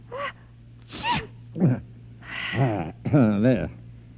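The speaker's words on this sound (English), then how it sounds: "Do you sneeze? Yes, Senora, 3 times." Staged sneezes in a 1939 NBC radio drama broadcast, several short explosive bursts spaced across the span, with a steady hum underneath and no words spoken.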